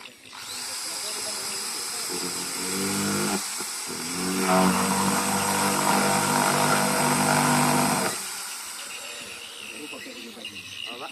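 A power drill whines steadily for several seconds, rising in pitch and intensity as it bores into a plastic bucket, then cuts off.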